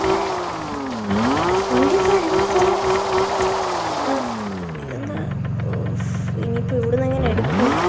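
Car engine in a driving video game hums and revs, its pitch rising and falling through gear changes, dropping to a low idle midway before climbing again, loud and close, under the player talking.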